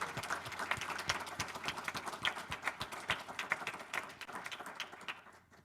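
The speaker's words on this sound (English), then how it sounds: "Give you a round of applause and appreciation for all you've given." A church congregation applauds in appreciation, a close, sustained patter of many hands clapping with uneven rhythm, holding steady for several seconds before dropping away at the end.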